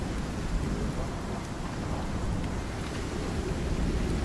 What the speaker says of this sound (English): The storm is still going.